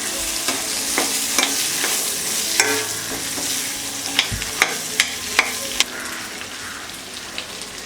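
Boiled green chickpeas being stirred and fried in spices for an aloo hara chana curry, with a steady close sizzle broken by sharp spoon scrapes and clacks against the pan in an uneven rhythm.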